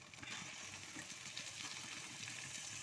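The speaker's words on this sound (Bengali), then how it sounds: "দেখো মাছটা বেশ ভালো করে কষানো হচ্ছে।" Marinated chicken sautés with spices in hot oil in a pan, giving a faint, steady sizzling hiss with soft bubbling underneath, uninterrupted throughout.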